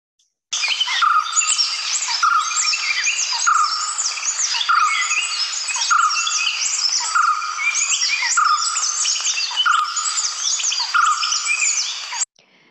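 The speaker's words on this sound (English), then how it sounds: "It is in fact the white-cheeked barbet" A white-cheeked barbet calls from a balcony, a loud, steady series of repeated notes running without pause, layered over dense chirping from other birds close by.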